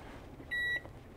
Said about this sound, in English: all you have to do is pop this bad boy into the microwave